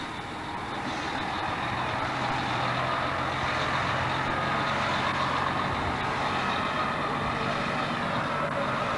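A green sauerkraut delivery truck rolls past in a small-town grand parade, its steady engine rumble heavy and continuous under a constant wash of crowd and street noise, with no clear speech.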